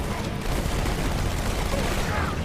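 Sustained heavy gunfire and explosions in the video game Halo 2 during a multiplayer match, a loud, continuous, dense roar of shots and blasts with no clear gaps.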